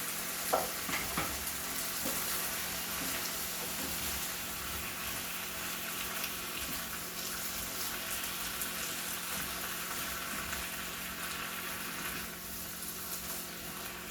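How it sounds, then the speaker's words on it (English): Cut onion and tomatoes going into a pan of frying okra, making a continuous close sizzle with soft stirring rustles throughout and a few small knocks near the start. "So we're going to add our cut up onion and tomatoes into our recipe."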